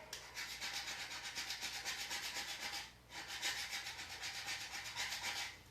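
Vinyl transfer is rubbed firmly onto a tumbler, producing a close, steady, rhythmic scraping with quick repeated strokes that pauses briefly midway before resuming.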